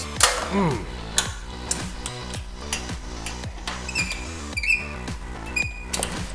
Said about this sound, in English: All right, get those two bolts out.